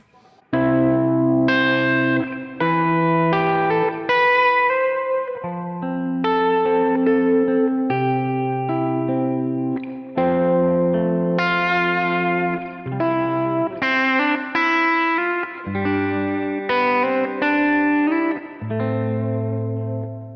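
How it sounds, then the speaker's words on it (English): Clean electric guitar through a PRS on the bridge pickup, Kemper amp with a Dumble profile, playing melodic chords and single notes, bright and close, with light effects and steady dynamics throughout, no voices. "we're going to start off with the bridge pickup, back on that Dumble profile on the Kemper"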